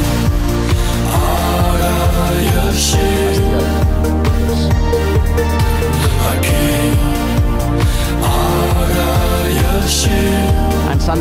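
Song excerpt, a dense, loud full-band recording with steady rhythm and sustained vocal and instrumental layers throughout, played alone without talk over it.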